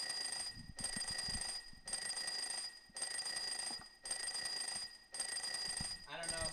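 A phone rings with an incoming call, its electronic tone sounding in repeated bursts of roughly one second separated by short gaps. The ringing is steady and fairly loud, with a faint low rumble underneath.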